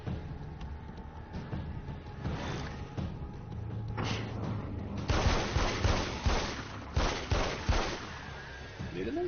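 Gunfire in the horror action game Alan Wake's American Nightmare, a string of sharp shots and bursts that grow denser and louder in the second half, heard under in-game ambience and a low hum.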